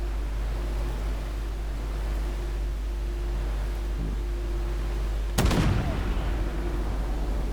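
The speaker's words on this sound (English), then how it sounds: "Oh, that was a medium caliber round, probably a 90mm." A medium-caliber tank round, around 90mm, fires in the tank combat game Armoured Warfare: one sudden heavy boom with a decaying rumble after several seconds of steady engine drone.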